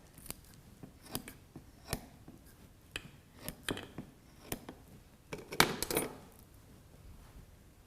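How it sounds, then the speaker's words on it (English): Scissors snip through a preserved kidney on a dissection tray, cutting lengthwise down the centre to split it into two halves: a series of short, sharp, close clicks at irregular intervals, with a denser cluster of cuts near the end, no talk. "you want to continue your cutting all the way down the centre until you have two halves opened up"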